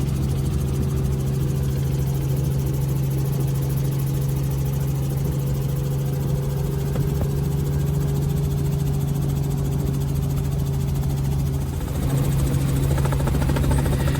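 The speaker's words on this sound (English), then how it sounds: "we went for a helicopter ride for an hour" A steady, loud drone of helicopter rotors and engine in flight, a low throbbing hum that stays constant, heard from inside the aircraft.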